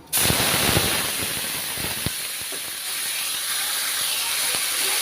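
Onion paste sizzles and spits in a hot pan as egg korma is cooked, after cinnamon has been fried in the oil. A loud steady hiss opens with a burst of crackles, then settles into a continuous sizzle with no talk.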